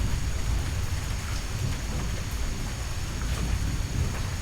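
Steady, loud pouring rain in a rainforest thunderstorm, a dense continuous wash with a low rumbling underlayer and no voices.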